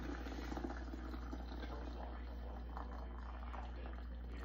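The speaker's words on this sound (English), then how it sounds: "So we are gonna pour this in, and it's straining all the sand out." Maple syrup poured through a strainer to catch sand, a steady liquid rush under a constant low hum, close and continuous with no voices.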